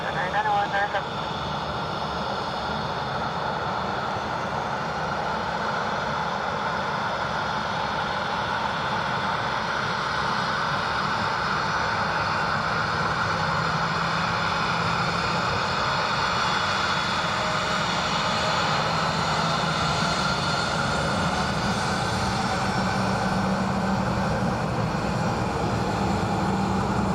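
A Ryanair airliner lands on runway 28 left at Dublin Airport in a light wind, a loud, sustained engine roar with broad rushing noise that holds steady throughout, with a voice heard intermittently.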